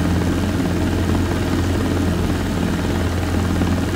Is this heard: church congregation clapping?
no